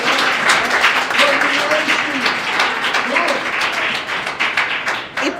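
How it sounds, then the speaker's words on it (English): An audience at a foundation closeout event breaks into sustained applause, a dense patter of many hands with light cheering voices mixed in, fairly loud and even. "Yeah, you can clap, you can clap."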